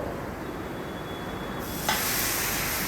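Stock poured into a hot butter-and-flour roux sets off a sudden loud hiss of steam that starts abruptly partway through and holds steady after a quieter stretch of background noise.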